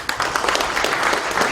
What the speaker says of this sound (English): let us all give them a big round of applause.